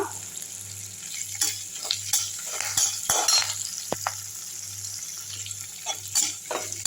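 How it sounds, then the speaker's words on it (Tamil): Onions sauté in oil with curry leaves in a pan for beetroot chutney, giving a steady sizzle. A spatula scrapes and clinks against the metal now and then, close up with no talk. "வெங்காயம் போட்டுக்கலாம் ஒரு ஒரு நிமிஷத்தில் வதங்கிடுங்க நல்லா"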